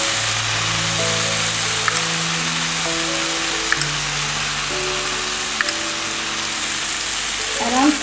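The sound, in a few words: masala frying in a pan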